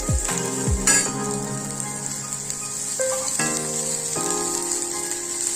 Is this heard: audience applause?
no